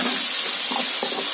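Chopped tomatoes hitting a hot pan for a North Karnataka churmuri susla breakfast, giving a steady close sizzle with soft scraping bursts as they are stirred, no talk.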